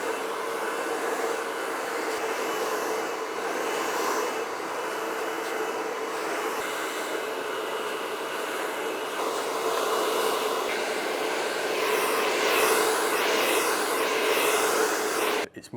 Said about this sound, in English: And I'm just going to blow dry the product in.